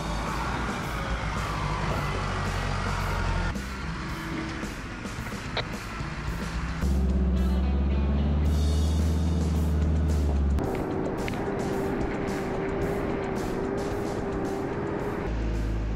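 A 4WD engine chugs steadily up a steep track in first gear low range at around 2,500 to 3,000 RPM in the Victorian High Country, a loud continuous drone whose pitch shifts midway, with no voices.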